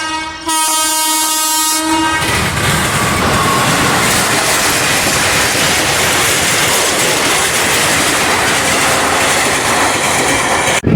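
A train approaches a closed railway crossing gate, opening with a loud, sustained horn blast before the heavy rumble and clatter of the passing cars fill the rest of the clip, close and loud.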